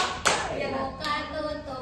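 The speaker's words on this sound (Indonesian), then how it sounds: "Bertepuk tangan." Two hand claps in a microteaching classroom practice, a sharp clap near the start and a softer one about a second later, both close and clear against faint room noise.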